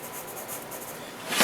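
Pencil drawing on paper, the pencil held to the side at an angle, gives a soft continuous scratchy rasp, close and quiet, swelling into a brief louder stroke at the end.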